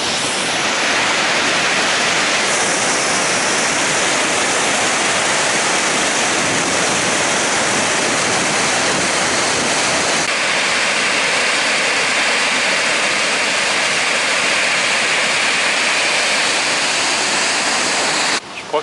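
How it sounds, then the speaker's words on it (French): Waterfall in a Norwegian fjord valley, a powerful, unbroken roar of falling water, loud and close, filling the whole span with dense rushing noise. "En attendant, on va déjà voir une cascade."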